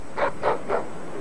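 A German shepherd dog barks three times in quick, evenly spaced yaps, sharp and close, with near silence between them and no voices.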